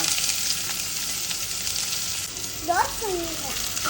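Onions fry in a pan for chicken masala, sizzling as a steady hiss up close, while voices chatter briefly near the end.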